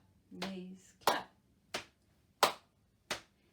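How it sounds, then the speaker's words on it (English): Steady knees-and-clap body percussion beat at a music workshop, four sharp percussive hits spaced evenly, preceded by a brief sung or spoken vocal sound, close and clear. "So we're going to go knees, clap, knees, clap, knees, clap, knees, clap."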